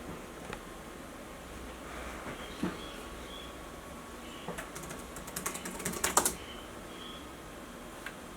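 Keys tapped on the built-in keyboard of an HP/Compaq G42/CQ42 laptop to enter a password, giving faint, sparse clicks that bunch into a quicker, louder burst near the end over a quiet room background.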